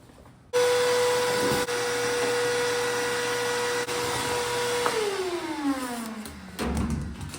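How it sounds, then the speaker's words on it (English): Vacuum cleaner run close to the door lock of a 1970 GMC C2500 truck, a loud steady whine that starts abruptly, then wavers and drops in pitch as the nozzle moves. "let's get a vacuum and see if we can get that thing cleaned out of there."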